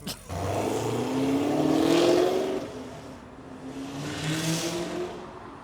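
A misfiring car engine revs up with a rising drone, eases off, then revs again, heard nearby from outside with no talking.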